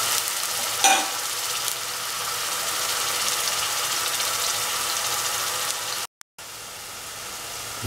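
Mutton kofta mixture with ground shallots, ginger and egg frying in oil, a steady soft sizzle running throughout with a brief stir or clink near the start and a momentary cutout near the end.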